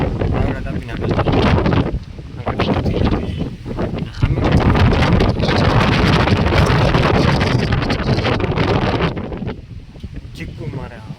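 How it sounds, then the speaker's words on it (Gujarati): Strong gusting wind roars and buffets the microphone during a sudden summer rainstorm, loud and continuous, with a person talking through it. "અને હવે પવન થોડુંક વધારે લાગશે"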